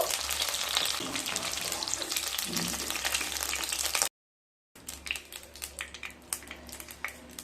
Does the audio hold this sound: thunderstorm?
no